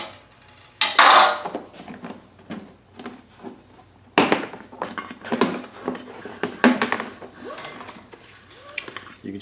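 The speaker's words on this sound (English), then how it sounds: "Take the two side covers off." The side covers come off a Predator 2000 generator after their top Phillips screws are removed, with close plastic and metal clatters, knocks and handling noises at irregular intervals.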